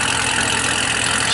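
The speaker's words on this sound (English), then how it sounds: "Nice exhaust note." Idling Corvette exhaust at an outdoor car show, a steady continuous rumble that holds evenly throughout at close range, with no voices over it.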